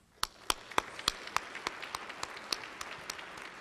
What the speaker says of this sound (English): Members, if we can also thank Todd for all of his hard work with a round of applause.